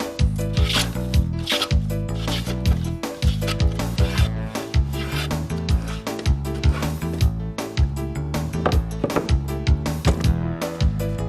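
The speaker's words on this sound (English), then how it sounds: "get a plane and plane down to that pencil line" A hand plane shaves down a wooden shelf to a pencil line in a country cottage, making rapid, repeated rasping strokes, loud and close, with a steady rhythm and no talking.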